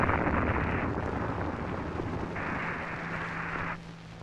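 A Titan II missile explodes during a failed test launch, a sustained loud roaring rumble with broad noisy surges that holds steady before dropping off at the end, no voices.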